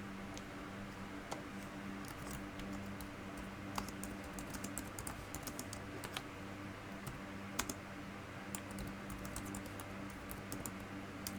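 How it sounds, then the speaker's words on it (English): Computer keyboard typing comes through quietly and close, an irregular run of sharp little key clicks, some louder than others, over a steady low hum, with no voices. "Honestly, my typing's getting really bad."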